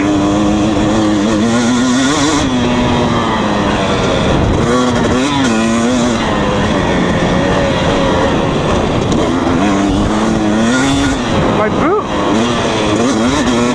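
A 2020 KTM 250 SX dirt bike engine revs and drones loudly and continuously while being ridden, its pitch rising and falling with throttle changes throughout, close to the rider.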